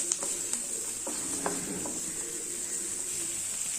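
Finely chopped onion sautéing in a pan, a steady hissing sizzle with a high bright edge, broken by a few soft taps and scrapes of a spoon, close up with no talking.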